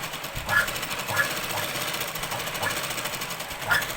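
A sewing machine stitches a Punjabi dress pant in short bursts, a fast mechanical whirring and tapping that rises and falls between pauses, close by.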